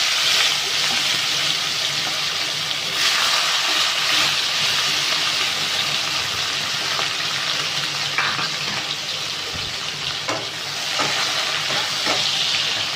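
Onions sizzle and crackle steadily in hot oil with dried red chilies, cardamom and cloves, a dense continuous frying hiss with occasional stirring clatter, close and fairly loud, no talking.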